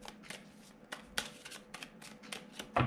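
Tarot cards riffled and drawn at a desk, a series of soft papery flicks and slides with a sharper snap near the end, close and quiet, no talking.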